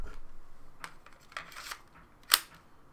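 Nintendo Switch Joy-Cons slide into the grip with a few small plastic clicks and scrapes, ending in one sharp, crisp snap as a controller locks in place.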